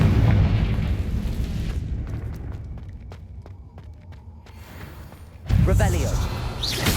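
Confringo blasting spell explosions in Hogwarts Legacy, a loud booming blast with rumbling tail at the start, quieter crackles and small impacts in between, then a second heavy explosion near the end.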